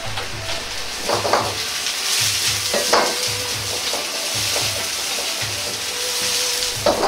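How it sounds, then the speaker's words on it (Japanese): Ginger and green onion sizzle in a little oil in a wok, stirred with quick scraping strokes that come in rhythmic bursts over a constant frying hiss. "生姜とネギの香りを油に移すイメージで炒めます"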